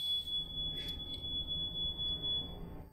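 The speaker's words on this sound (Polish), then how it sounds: "Alarm się włączył." A steady, high-pitched electronic alarm tone sounds continuously and fairly faintly for a few seconds, with no talking over it.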